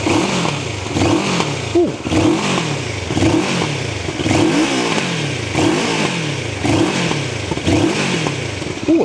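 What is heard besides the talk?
Moto Morini Seiemmezzo 650 Scrambler engine revving and backfiring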